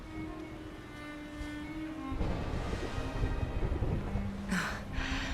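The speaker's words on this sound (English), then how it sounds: "Would you look at it thundering away out there?" Low rumbling thunder rolls through a stormy scene in Dragon Quest XI, a steady distant roar with a deeper swell midway, layered under a soft sustained musical tone and wind-like noise.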